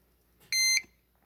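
A fire alarm panel in audible walk test mode sounds one short, loud electronic beep of about a quarter second in an otherwise quiet room.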